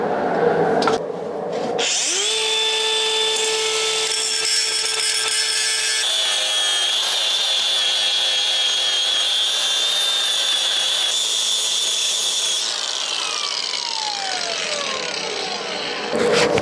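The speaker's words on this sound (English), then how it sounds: "I'm gonna weld it up on the inside also and grind it up out here" An angle grinder works a welded seam on the body of a Saab 900 Turbo, a loud continuous high whine with shifting tone for about ten seconds before spinning down.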